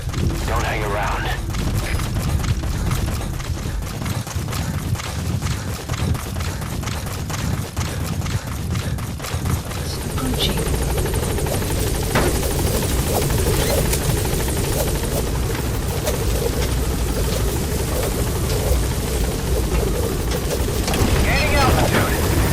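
A helicopter exfiltrating from a hot zone in the video game Metal Gear Solid V: The Phantom Pain, its rotor chop steady and loud throughout, mixed with rain and gunfire, while voices speak over it.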